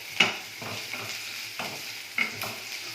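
Onions, chillies, capsicum and carrot being stirred in a pan for Chicken 65, with a steady frying sizzle and a few spoon scrapes spaced about half a second apart; no voices.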